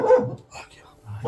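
Dogs barking near a house in the jungle at night by Jim Corbett National Park, a couple of short, fairly close barks heard under a person talking.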